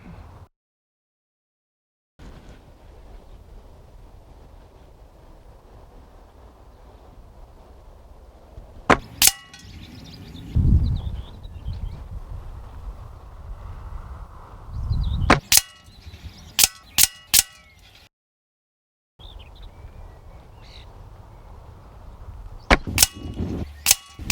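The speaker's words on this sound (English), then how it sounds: "I'm going to do 5 shots with each pellet, crosshairs on the ball at all times, not going to re-zero the rifle in between." Air Arms Pro Sport air rifle firing pellets at 25 meters: a series of sharp, close cracks, several in quick succession and others spaced apart, each followed by brief faint rattles, with quiet stretches between and no talk.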